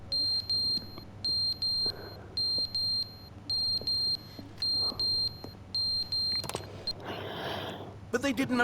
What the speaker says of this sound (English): The fire alarm.